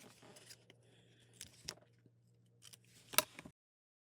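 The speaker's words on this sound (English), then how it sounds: "So we're going to trim those corners off." Scissors snip the corners off a paper mat for a pop-up stadium card, a few faint, close cuts spread over several seconds, with a sharper snip near the end before silence.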